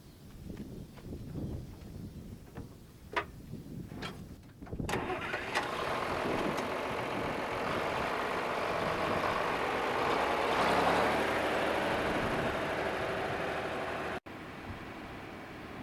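A farm tractor engine cranks with a few sharp bursts, then catches and settles into a steady, fairly close running rumble that continues for several seconds before an abrupt cut.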